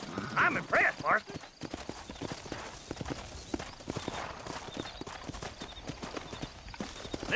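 Horse hooves from the video game Red Dead Redemption clip-clopping in a steady walking rhythm throughout, moderately close, after a brief voice or whinny at the start.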